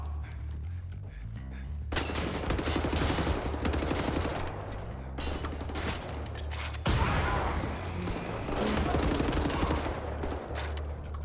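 Bursts of heavy automatic gunfire in Wolfenstein: The New Order, loud rapid volleys starting around two seconds in, with brief pauses between sustained barrages and dense echoing shots throughout.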